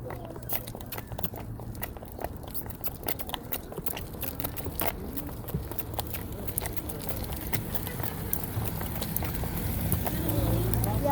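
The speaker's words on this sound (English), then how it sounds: "This is a miniature horse." Steady outdoor clip-clop of a miniature horse's hooves walking on pavement, recorded from under the left stirrup, a continuous rhythmic patter under background noise and occasional voices.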